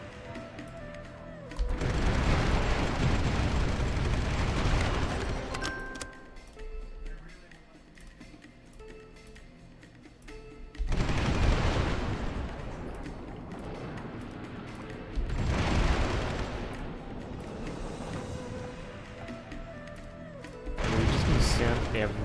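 Rocket strikes and explosions in the Supreme Ruler 2023 strategy game, several heavy booming bursts of a few seconds each separated by quieter gaps, with sharp ticking clicks between.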